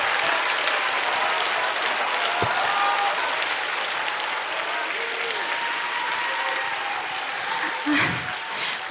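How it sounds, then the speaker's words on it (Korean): Audience applause at a Christian prayer meeting, a dense sustained wash of many hands clapping that fills the room steadily, slightly fading near the end with a brief voice and a thump breaking through. "이 박수는 정말 제가 받는 박수가 아닙니다."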